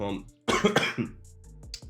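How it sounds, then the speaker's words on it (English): A single harsh cough bursts out close up, followed by a smaller throat-clearing sound and a bit of breathy vocal noise. "bear with me on the cough"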